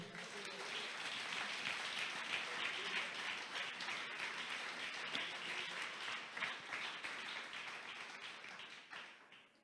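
A church congregation applauds together during a Pentecostal-style sermon, a dense, sustained wash of clapping that stays loud for most of the stretch and tapers slightly near the end.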